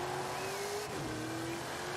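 A 1750-horsepower Ford Bronco engine in Forza Horizon 5 drones steadily at a quiet level, its pitch holding, then dropping briefly as the gear changes, then settling again.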